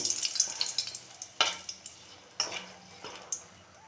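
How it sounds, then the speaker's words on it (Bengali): Light crackling and sizzling of four dried chillies frying in oil left from frying fish, punctuated by several sharp metallic clinks and scrapes of a utensil against the pan. "মাছ ভাজার তেলটার মধ্যে দিয়ে দিলাম 4টে শুকনো লঙ্কা। এই শুকনো লঙ্কাগুলো একটু ভেজে নেব।"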